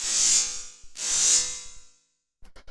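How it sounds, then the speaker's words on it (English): A metallic synth effect made from white noise through a resonator in Operator, used in mainroom techno, rings out as two bright, hissing swells that fade away, followed after a short silence by a few quick clicky hits. "we have this little metal effects sound"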